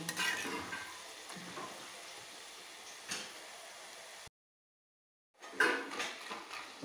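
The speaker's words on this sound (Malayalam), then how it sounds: "ഡ്രൈ ഫ്രൂട്ട്സ് ഫ്രൈ റെഡി ആയി സെക്കൻഡ് ബാച്ച് ഫ്രൈ" A second batch of dry fruits frying in a pan, a light crackling sizzle with stirring and scraping noises, fairly quiet and close, cut by a brief stretch of silence before the sizzling returns.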